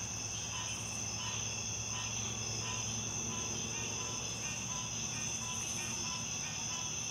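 Night-time chorus of frogs calling in the background outdoors, a continuous high-pitched trilling that stays faint and steady with no voices.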